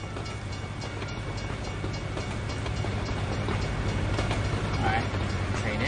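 A train passes a road crossing in American Truck Simulator with a steady rolling rumble and faint rhythmic wheel clatter that holds at an even level and swells slightly toward the end.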